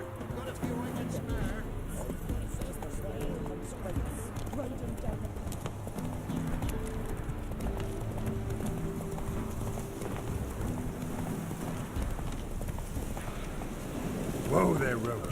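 Steady hoofbeats of Geralt's horse Roach galloping through The Witcher 3, a continuous clip-clop rhythm under light wind, with a brief rustle near the end.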